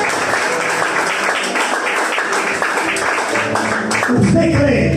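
A church congregation claps hands together in praise, a steady, dense wash of applause lasting throughout, with voices mixed in.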